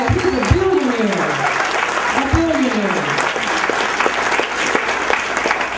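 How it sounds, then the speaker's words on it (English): Steady, dense applause from an awards-ceremony audience at the Rising Star Music Awards, filling the whole stretch as a continuous roar while a voice talks over it. "I think you all could clap a little bit better than that"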